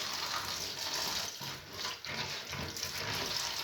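Frozen food goes into warm water for thawing, heard as a faint steady running and splashing of water with a soft dip partway through, quiet and close, with no talk.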